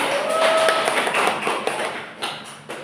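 A classroom of eighth-grade students claps for two classmates who just answered, a dense patter of hands that stays fairly steady, then thins and tapers off over a few seconds.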